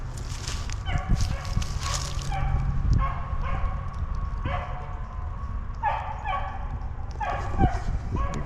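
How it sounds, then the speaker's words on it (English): A coonhound bays in repeated bursts of barking at uneven intervals, moderately distant, over a steady outdoor background hum. "this sounds like a coon hound"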